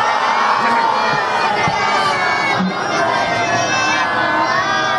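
A large crowd at a religious gathering in rural Pakistan loudly chants salawat in unison, a dense, continuous roar of many voices at close range with no pauses.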